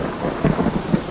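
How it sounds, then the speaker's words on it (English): Thunder rolls during a rainy thru-hike in the Laurel Highlands, a loud, low, rumbling swell mixed with the dense hiss of steady rain, with no voices. "Ooh, that's thunder."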